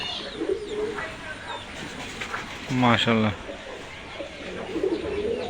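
Jonshira pigeons cooing softly nearby, their low murmuring coos mixed with someone talking.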